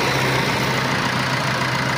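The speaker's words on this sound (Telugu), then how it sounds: "ఇంజన్ సౌండ్ కూడా మంచిగా ఉంటుంది." A 2016 Tata Zest diesel car engine idles with a steady, loud, even diesel rumble close by, unbroken and with no talk.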